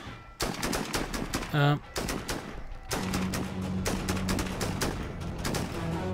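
Gunfire in the video game Full Spectrum Warrior: dense bursts of rapid automatic shots crackling steadily throughout, with a brief voiced sound partway through.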